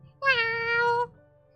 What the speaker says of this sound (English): She's meowing really loud, like louder than before.